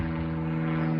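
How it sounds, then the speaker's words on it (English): A plane passing overhead gives a steady, droning engine hum with a strong low tone, heard alone and fairly loud. "sorry about the plane, do get them occasionally around here"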